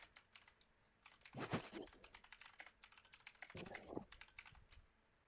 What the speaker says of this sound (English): I can hear the typing noises